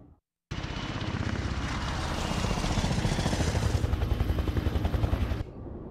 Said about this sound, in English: Boss sends his own private helicopter to get an agent back.